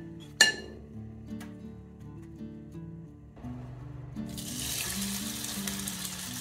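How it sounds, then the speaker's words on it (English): Bread soaked in batter sizzles in a buttered pan, a sharp clink at the start, then a steady frying hiss that grows louder and brighter partway through, with no talking. "I then heat a pan with some butter. I dip the bread into the batter and put it into the pan."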